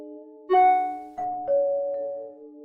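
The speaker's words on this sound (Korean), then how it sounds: "띠링하고 이메일 알림이 울렸다." An email notification chime rings as a few clear, sustained electronic tones stepping in pitch, moderately loud, each note lingering and overlapping the next in a quiet room.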